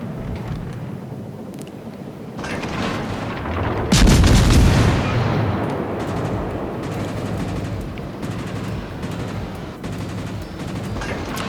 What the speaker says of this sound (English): Somebody's shooting over the mountain at us now.